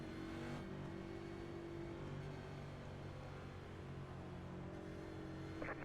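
A pack of race car engines in the iRacing sim at a green-flag race start, a steady layered drone of many motors held at pace, very quiet overall with a brief rise at the end.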